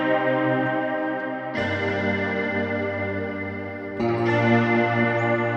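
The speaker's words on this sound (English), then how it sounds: "So we're going to directly insert a reverb on top of that." A sustained synth chord swells through a lush, washy reverb inserted in Ableton Live, shifting chords twice and ringing with a wide, spacious tail.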